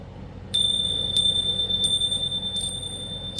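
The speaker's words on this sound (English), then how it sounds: "We're going to ring the bell to close it out." A small bell rung to close a tarot reading, struck about four times at a slow, even pace, each clear ringing tone sustaining between strikes over a quiet background.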